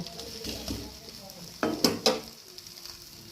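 Lachha paratha frying in a pan gives a soft continuous sizzle, with a few quick spatula scrapes and clinks against the pan partway through.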